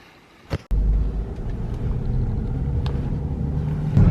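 A car cruising on a road, heard from inside as a steady low rumble of engine and road noise that starts abruptly after a brief click and carries on evenly throughout.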